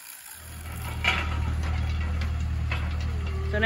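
A farm tractor engine runs steadily at a low, constant idle-like drone while planting seeds in a field, with faint mechanical clicks and brief higher tones above the rumble throughout.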